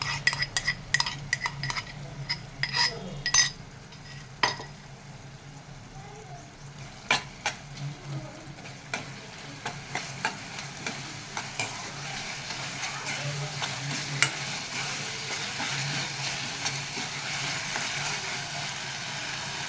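Ivy gourd pieces stir-fried for a tomato curry in a pan, with a steady sizzle under repeated sharp scrapes and clinks of a spatula against metal, busy at first and then settling into continuous frying.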